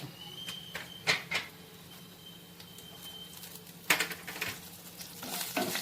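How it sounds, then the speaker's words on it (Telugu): Tempering seeds and curry leaves sizzle quietly in hot oil for a Telugu flat bean onion curry, with a soft continuous crackle and several sharp stirring clinks from a spoon against the pan. "తాలింపు గింజలు వేగుతున్నాయి కదా"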